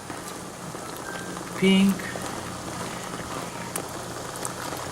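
Shrimp for a curry sizzle and bubble steadily in a hot pan, a continuous close crackle with one brief louder burst and a short spoken word partway through.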